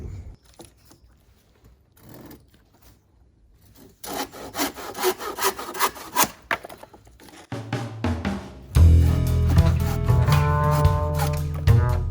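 A hand saw cuts through wood in steady rasping strokes, starting faint and sparse, then growing louder and denser, with a deep hum underneath later on.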